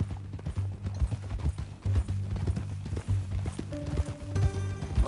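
Horse hooves clip-clop steadily in the video game Red Dead Redemption 2, a near rhythmic trotting patter over low ambient rumble, with a faint voice briefly toward the end.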